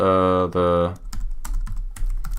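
Typing on a computer keyboard during a coding session, a rapid run of close key clicks following two sustained vocal tones, with a low steady hum underneath.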